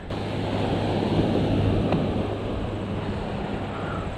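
Strong sea waves surge and crash steadily nearby in the Philippines, along a coastal stretch with scattered rebar, mixed with gusty wind buffeting the microphone, a continuous loud roar with no speech.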